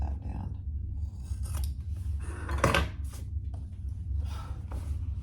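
Scissors snipping through laptop bag lining fabric, a few distinct close cuts with crisp blade slides between quieter handling rustles.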